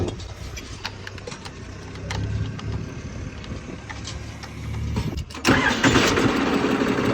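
A Farmtrac tractor engine rumbles and idles nearby, with clanks and knocks, then revs louder near the end.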